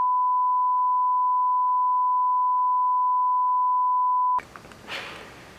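A single steady censor beep holds at one pitch for about four seconds, then cuts off abruptly into faint room noise.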